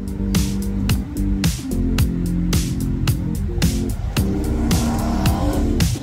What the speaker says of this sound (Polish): jest to samochód, który trochę zmienił moje myślenie o kompaktowych SUV-ach